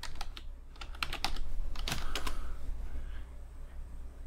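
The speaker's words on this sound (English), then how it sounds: "we want to go sudo apt, and we want to go update and hit enter." Close keystrokes on a computer keyboard while a terminal command is typed, a quick irregular burst of clicks that is faint and clear, with no voices.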